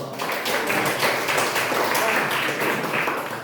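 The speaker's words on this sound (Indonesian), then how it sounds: "Kasih tepuk tangan dong." A classroom of students applauding, a dense, close burst of clapping that holds steady for a few seconds.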